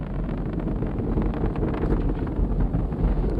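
A SpaceX Falcon Heavy lifting off with 27 engines firing, heard as a steady, broad, rumbling roar buffeted by wind, loud and continuous with no voices over it.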